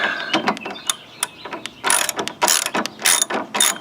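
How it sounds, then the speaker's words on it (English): Ratchet wrench with a 1/2 inch socket loosening a steering box nut on a Troy-Bilt TB30 ride-on lawn mower, giving loud close bursts of rapid clicking in quick repeated strokes with brief pauses, no talking. "So I'm going to loosen this nut first on the box, and I'm using a 1/2 inch socket."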